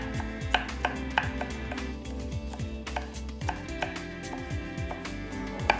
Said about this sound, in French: Je vais les couper en petits légumes